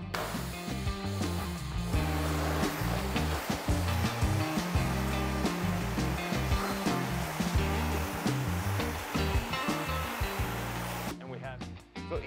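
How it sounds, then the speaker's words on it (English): A pressure washer sprays water across a roof, spreading a wash product over the surface. It makes a loud, continuous rushing hiss for about eleven seconds, then cuts off abruptly. "I've been able to spread it across the roof using the pressure wash"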